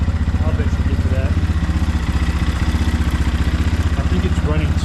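A single-cylinder X-Pro Templar 250 motorcycle engine fitted with a Nibbi carburetor, running lean, idles close by with a steady, rapid low thump and some mechanical clatter throughout.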